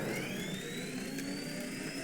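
A helicopter in the video game Teardown gives off a steady whirring engine drone with a rising high whine layered over a low rumble, continuous and fairly loud, with no talking.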